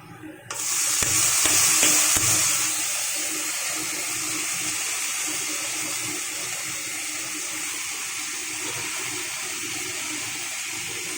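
Drained, still-wet radish greens drop into a hot wok and burst into a loud hiss, settling into a steady, even frying sizzle that continues to the end.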